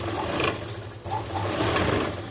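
A sewing machine hums steadily while stitching the edge of a dress sleeve, with a brief dip in the middle before the motor resumes, close and fairly quiet.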